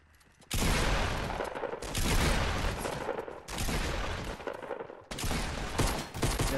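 Bursts of rapid gunfire from the Fortnite video game, loud and close, coming in three long volleys separated by short gaps, no speech.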